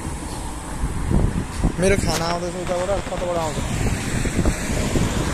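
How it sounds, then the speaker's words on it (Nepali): A strong evening wind gusts outdoors, roaring as steady buffeting noise across the microphone while someone talks over it. "इभिनिङको भ्यू चाहिँ यस्तो छ होइन डेन्जर हावा लगाइरहेछ"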